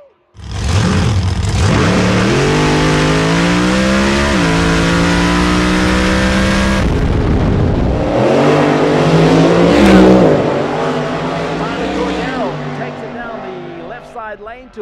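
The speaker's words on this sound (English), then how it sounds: "that 1970 Chevrolet Camaro funny car with the methanol-fueled, supercharged Hemi underneath the hood" A 1970 Chevrolet Camaro funny car with a supercharged, methanol-fueled Hemi roars loudly down a drag strip, a sustained howling engine note rising in pitch for several seconds, then fading and shifting as it passes, with a commentator's voice.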